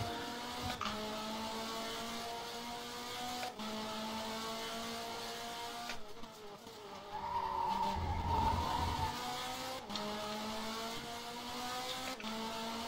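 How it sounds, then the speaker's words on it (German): Race car in the Race 07 video game sliding into the pit box at Imola, steady engine drone with a swelling tire skid near the middle, loud and close, no talk. "Noch voll reingeslidet in die Box."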